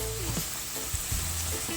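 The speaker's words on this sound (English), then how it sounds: "That's the dumpling over here frying guys" Steady crackling sizzle of dumplings frying in a pan, continuous and close, with a few soft clinks and scrapes now and then.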